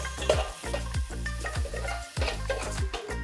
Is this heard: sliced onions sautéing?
yes